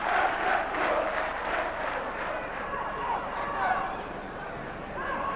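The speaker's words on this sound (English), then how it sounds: "It's the Norwich fans who are cheering" Norwich City away fans roar and chant inside Bradford's ground during a 1995-96 football match, a dense, sustained crowd cheer that swells at the start and carries on loudly throughout, with no clear talking over it.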